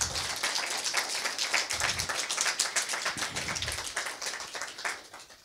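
An audience applauds at a book launch in Moinești with a dense burst of many hands clapping at close range. The applause holds steady and rises in short surges for the whole stretch.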